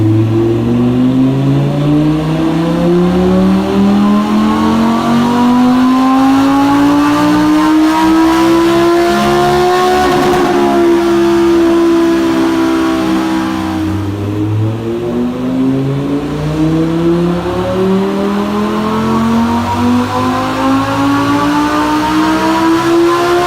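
An Audi R8 V10 accelerates hard onto the Autobahn, its engine climbing loudly through the revs in long rising sweeps, easing between gears and pulling up again, steady and close throughout with no talking.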